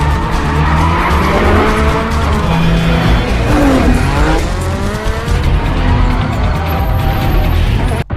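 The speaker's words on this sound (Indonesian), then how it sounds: "Dan adegan kejar-kejaran mobil seperti di film Fast and Furious sebelumnya pun terjadi." Tires squeal and skid repeatedly as engines roar through a street car chase in Tokyo, loud and close, with screeching sweeps rising and falling over a constant motor rumble.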